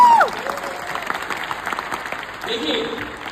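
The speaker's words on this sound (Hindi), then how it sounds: "जबरदस्त तालियां होनी चाहिए," Audience applause at a motivational speech, a steady wash of clapping from a crowd that carries through the whole stretch, with a faint voice and some tonal sounds rising near the end.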